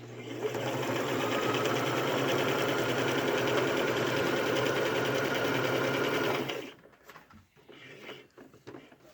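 A sewing machine runs steadily and close for several seconds, stitching tie quilt squares together, then stops, leaving quiet handling sounds.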